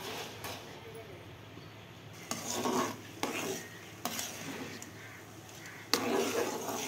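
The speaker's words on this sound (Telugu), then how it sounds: "ఇది కరగాల, కొంచెం లేత పానకం వచ్చేదాకా కలుపుతూ ఉండాలి." A spoon stirring jaggery in a pan as it melts into syrup, soft scraping strokes repeating at uneven intervals, fairly faint and close, with low background hum.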